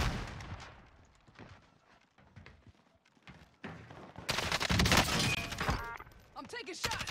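Gunshots from a Kilo 141 in a Call of Duty match on Rebirth Island crack in scattered bursts, quiet at first and then a loud close volley near the end, with a player talking throughout.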